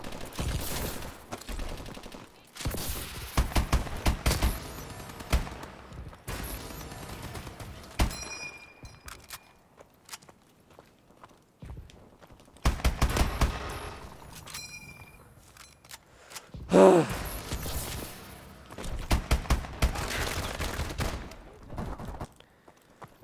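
Bursts of AK rifle gunfire in Call of Duty Advanced Warfare, loud volleys repeating in clusters with quieter gaps between, alone without talk.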